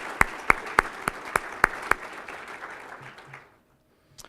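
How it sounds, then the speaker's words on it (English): An audience at a United Way annual meeting applauds, opening with about seven sharp, evenly spaced loud claps over a wash of general clapping that thins out and fades to near silence, followed by one last stray clap. "Let's give that a round of applause."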